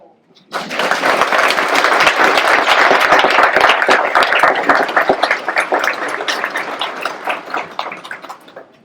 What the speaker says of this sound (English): please give a round of applause for Jessica River Sales and the Bohannon Sto